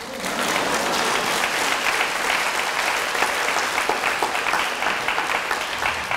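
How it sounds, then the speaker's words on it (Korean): Audience applause breaks out at a church youth retreat, a roomful of people clapping steadily and loudly for several seconds, a dense continuous patter with no voices over it. "그래서 몇 초 후에 박수가 나와야 되는 거예요."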